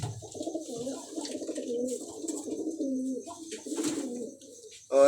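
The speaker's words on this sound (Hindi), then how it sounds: "ये कलदुम्बा कबूतर ऊपर बैठा हुआ है भाईजान।" A Kaldumba pigeon cooing nearby, a continuous rolling, throaty coo lasting several seconds, fairly close and clear, with faint background noise and no talk.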